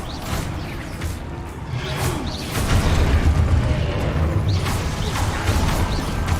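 Spell blasts from Confringo and Exposo casts in Hogwarts Legacy, a run of booming explosions and whooshes overlapping one another at steady loudness, layered over continuous game noise with no speech.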